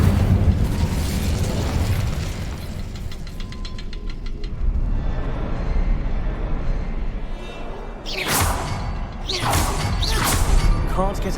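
The Incendio fire spell is cast in the Hogwarts Legacy video game, with whooshing bursts and booming pops of magical flame amid mechanical game sounds, building to sharp loud blasts near the end.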